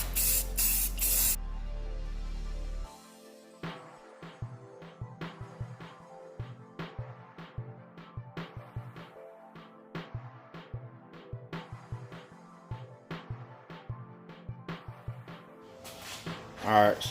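An aerosol can spraying black paint onto car wheels, beginning with a long steady hiss. Rapid short bursts follow in a quick, uneven rhythm, close and loud, with a final hiss at the end.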